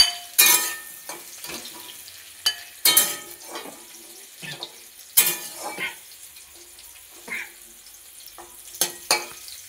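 Pumpkin pieces fry in oil in a pan, with soft sizzling under a series of sharp scrapes and clanks as the pieces are stirred and turned, close and fairly loud.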